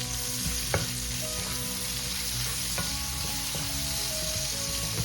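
Aromatics for sautéed cabbage frying in a pan over medium-high heat, a steady close sizzle and crackle with occasional stirring clicks, no voices.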